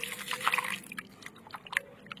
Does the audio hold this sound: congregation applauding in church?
no